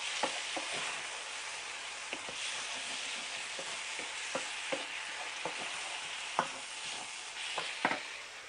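Spinach pasta with masala being stirred in a hot pan, with a steady sizzle broken by repeated sharp scrapes and clinks of a spoon against the pan at an irregular rhythm, close and clear with no talk.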